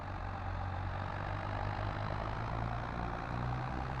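Tractor engine idling in Farming Simulator 22, a steady low rumble with a constant droning hum that holds even and continuous throughout, with no talking over it.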